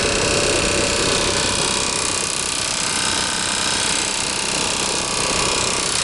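Inside a new RV, the blower wheel gives off a continuous, harsh rattling buzz from something stuck in it, steady and fairly close with no talking.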